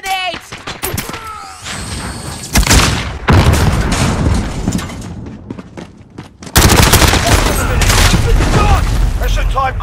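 Grenade blasts and dense gunfire from the video game Call of Duty: Modern Warfare II, loud bursts of shots and booms in continuous rapid clusters with a heavy surge near the end, under radio-style voices.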